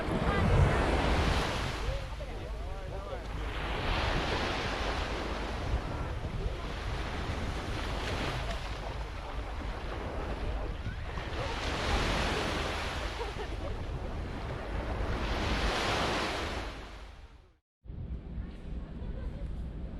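Sea waves rolling onto Bang Tao beach in Phuket, with a steady rush of surf and wind buffeting the microphone, swelling and easing in several broad surges before a brief cut near the end.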